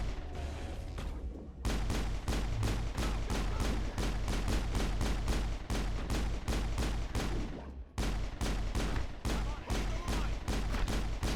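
Rapid, steady automatic weapon fire in Mass Effect, loud and sustained, with a short break partway through before the shooting resumes at the same pace.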